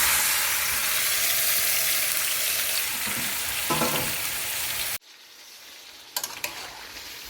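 Sour Indian heirloom tomato pieces fry in hot oil for a tomato pickle, giving a loud, dense, steady sizzle for about five seconds that then drops away to quieter crackles with a few sharp pops.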